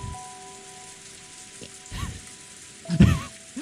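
Soft rainfall from the video game Umineko When They Cry patters steadily in the background, with a few faint tonal hums and a louder low thump near the end.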